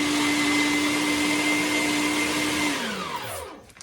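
An electric meat grinder processing deer meat for sausage whirs with a loud, steady motor drone, then spins down and stops near the end.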